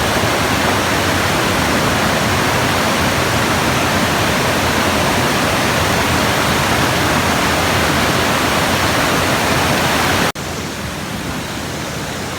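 Tujuh Bidadari waterfall in Aceh pours as a steady, loud broadband roar of falling water that fills the whole span without a break, dropping sharply in level near the end.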